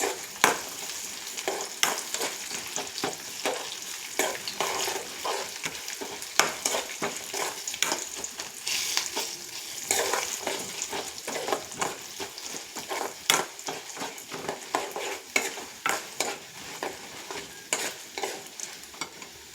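Steady sizzling of tempering spices frying in hot oil, with constant crackles and frequent scraping stirs against the pan, close and continuous with no talking.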